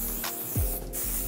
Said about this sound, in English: I'm actually gonna go ahead and